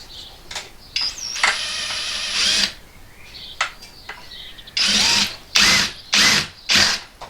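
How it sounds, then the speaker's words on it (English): A power drill bores holes in solar panels being fitted to a VW Crafter van conversion, running in several separate bursts of a few seconds each, with short quiet gaps and small clicks between the runs. "let's drill some holes in the very expensive solar panels"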